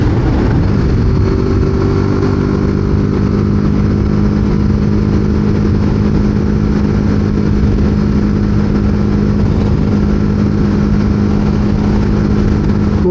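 A loud BMW G 310 GS 2023 motorcycle engine hums steadily with a low, thumping single-cylinder drone, its pitch shifting slightly as it rides along without pause.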